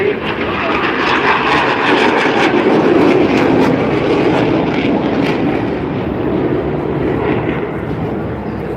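A jet at the Blackpool Airshow roars past in a broad, steady wash of engine noise that swells and slowly fades, loud and continuous under a commentator's voice.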